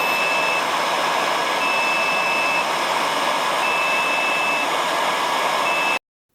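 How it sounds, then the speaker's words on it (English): A Cop Rose X5P robot window cleaner running on battery power gives a steady, loud, hair-dryer-like fan whine with a constant hiss, cutting off abruptly near the end. "That was just a quick demo showing you on battery power the level of the noise, and it's pretty similar to a hairdryer"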